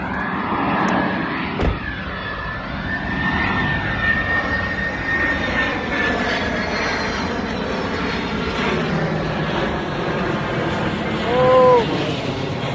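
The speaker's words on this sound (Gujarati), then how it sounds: "કમેન્ટમાં બતાવો કે કઈ કંપનીનું પ્લેન છે" Fixed-wing airplane passing overhead near a Costco store in Los Angeles, a steady engine roar with broad rumble that holds for the whole stretch, with street ambience and a brief voice underneath.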